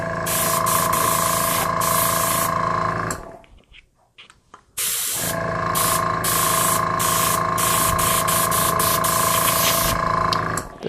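Compressor-driven airbrush spraying ink at 50 psi gives a strong, steady close-up hiss that drops away for about two seconds mid-way, then resumes with brief interruptions.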